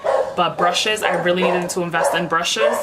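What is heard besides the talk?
dog barking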